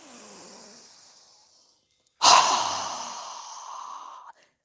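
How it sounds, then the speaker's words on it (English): Forceful open-mouthed exhale during a yoga breathing exercise, a loud breathy whoosh that bursts in after a softer inhale and trails off steadily over about two seconds before cutting out, close and alone. "exhale with a strong breath with our mouth open wide"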